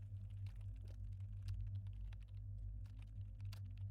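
Computer keyboard typed on hard and fast during a game session, a steady stream of sharp close key clicks over a constant low hum, no talking.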